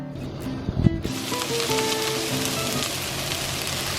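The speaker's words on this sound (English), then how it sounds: "We have this cabbage frying up here." Cabbage frying in a pan on a home kitchen stove, a steady crackling sizzle that begins abruptly after a few clattering knocks and runs on continuously at close range.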